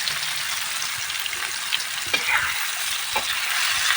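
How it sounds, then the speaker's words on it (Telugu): Paneer pieces fry in masala in a pan, hissing steadily with a few soft stirring scrapes and taps near the end. "దాని గురించి ఇలాగా వేయించుకుంటున్నాను అనమాట వేయించుకొని పక్కన పెట్టుకుంటాను"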